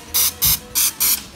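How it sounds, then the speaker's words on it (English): Pam cooking spray hisses onto a 12-cup cupcake pan in five short close bursts, each about a fifth of a second, with brief pauses between. "we're gonna spray a 12-inch cupcake pan"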